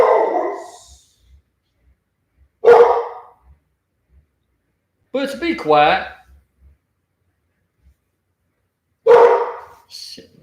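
A pet dog barks in short bursts at a few moments, loud and close, with a person talking in between the barks.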